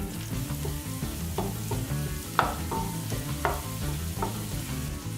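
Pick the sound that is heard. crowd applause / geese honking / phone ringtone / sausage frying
sausage frying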